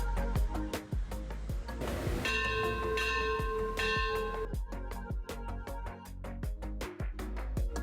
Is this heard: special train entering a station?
no